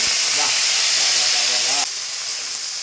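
Cumin seeds and potatoes dropped into hot oil for a dry white potato curry hiss loudly and steadily, the sizzle easing slightly partway through, with a faint voice underneath.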